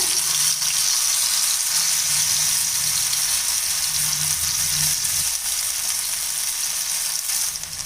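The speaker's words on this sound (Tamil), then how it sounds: "இப்போ நம்ம ஒவ்வொரு பீஸாக எடுத்து இந்த தோசை தவாவில் வச்சிடலாம்" Raw banana slices fry in oil on a dosa tawa over a medium flame, giving a dense, continuous close sizzle that holds steady for the whole stretch, with no talking.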